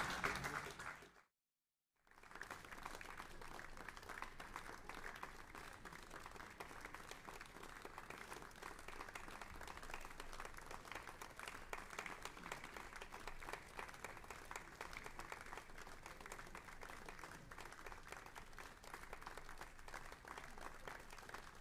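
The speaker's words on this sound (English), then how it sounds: "you can hear the applause coming in from the hall" Sustained applause from an audience filling a concert hall at a brass band festival, steady and fairly soft throughout after a brief silence near the start.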